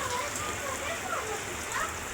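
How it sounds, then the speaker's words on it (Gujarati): Rain falls on a courtyard in Gujarat during a heavy downpour, a constant hiss of water with faint voices mixed underneath. "અત્યારે વરસાદ ચાલુ થઈ એટલે ખાલી ફળિયાનો દેખાડો મિત્રો"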